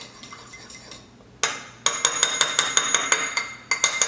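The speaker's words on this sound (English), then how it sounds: "So quick whisk again." Seasoned eggs with Parmesan, salt and pepper whisked briskly in a bowl, a fork or whisk clinking against the sides in a quick, steady rhythm of sharp ticks after a brief hesitant start.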